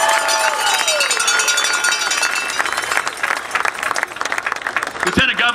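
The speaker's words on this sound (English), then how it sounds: "Another big round of applause for Lieutenant Governor Peter Kinder." A voice speaks over a crowd, then audience applause builds and keeps going for Missouri Lieutenant Governor Peter Kinder.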